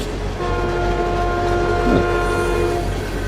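An animated-film train rumbles along steadily, loud and close, its horn sounding a sustained chord over the continuous rolling noise.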